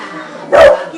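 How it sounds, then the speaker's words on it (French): A dog barks outdoors once, a single loud, fairly close woof rising out of a quiet room's background hum. "il y a un chien qui est dehors"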